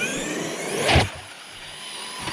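An Arrma Kraton 8s RC car motor whines in a short throttle burst on snow, rising to a sharp peak and then dropping back to a faint hum.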